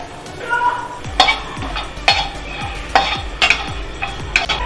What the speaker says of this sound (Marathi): मी थोडंसं खोबरं आणि खसखस आधी कोरडंच भाजून घेते